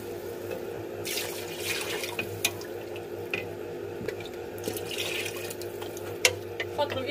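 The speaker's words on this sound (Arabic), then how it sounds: "طاوة نصب له الماء سخون" Hot water poured into a cooking pot while making a Tunisian wedding couscous with lamb, a steady splashing, trickling flow with a few clinks of the pot, close by over a low kitchen hum.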